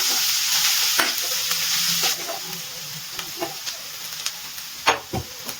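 Grated carrots frying in ghee over low to medium flame make a loud, dense hissing sizzle. Intermittent stirring scrapes grow more frequent toward the end, heard up close with no speech.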